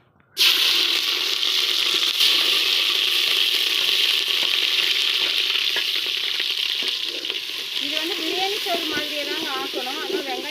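Onions hit hot oil with ginger garlic masala, bursting into a loud, dense sizzle that holds steady for ten seconds while a spoon scrapes occasionally and a voice speaks faintly toward the end.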